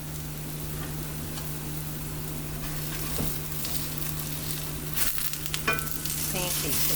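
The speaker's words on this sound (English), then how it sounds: "so the sausage is coming along. I'm going to continue to let that boil." Sausage cooks in a pan on the stove, bubbling and sizzling steadily with a low hum beneath, and a few utensil clicks near the end.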